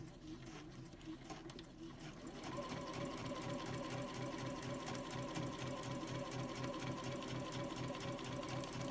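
A Juki DX7 sewing machine stitches a seam in a steady, rapid mechanical whir with a fast even stitching rhythm, close and continuous after a quieter start.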